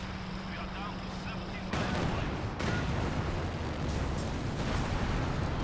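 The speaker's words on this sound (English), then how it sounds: "King Tiger trying to make it the hell out of there, but all the Soviet tank destroyers opening fire" Soviet tank destroyers open fire on a King Tiger in the strategy game Company of Heroes 2. Dense, continuous booming gunfire and blasts fill the whole stretch, with heavier volleys kicking in partway through.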